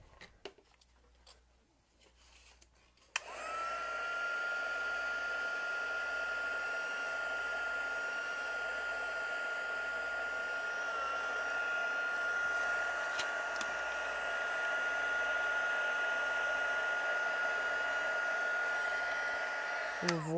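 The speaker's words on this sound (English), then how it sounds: "let's get the heat tool out again" After a few seconds of light handling noise, a heat tool switches on and blows a continuous, close hiss of hot air over a paper craft project, holding a steady whine for the rest of the stretch.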